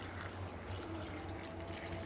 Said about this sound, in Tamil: இப்போ வந்து இதில் முழுகிற அளவுக்கு தண்ணி ஊற்றிக்கலாம்.